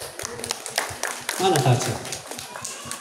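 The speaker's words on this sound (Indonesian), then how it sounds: "Kita beri tepuk tangan untuk Ibu Frances." A church congregation gives scattered applause, sharp hand claps tapping out irregularly beneath a voice speaking over them.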